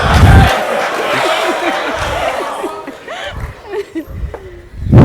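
School supporters at a quiz contest burst into loud, excited cheers and laughter, with chanting bursts and scattered shouts rising and falling near a speaker.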